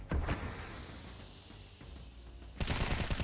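Automatic rifle gunfire in Counter-Strike 2 during a competitive match clutch, with M4, MP9 and Famas weapons in play: dense rapid bursts at the start and again at the end, loud and close, with quieter game ambience between.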